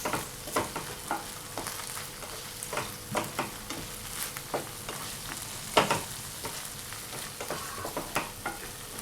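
Pizza puff stuffing sautéing in a pan with scattered stir-scrapes and light sizzling, moderately quiet, with no voices.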